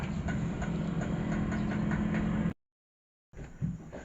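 A motorcycle engine idles after a loose kick starter repair, a steady close rumble that cuts out abruptly, then restarts briefly after a short silence.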